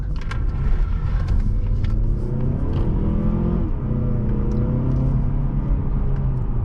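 A 2022-2023 Mazda3 Carbon Edition sedan's engine revs hard in sport mode and climbs in pitch under acceleration, a loud continuous rumbling growl with a brief shift partway through.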